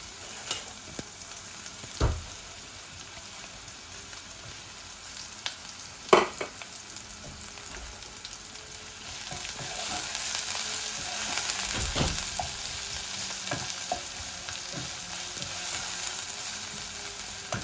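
Garlic, then a little onion, frying in a pan to make a boal fish roe dish, with a steady sizzle and occasional stirring scrapes and clanks, close and moderately loud, the sizzle swelling louder partway through.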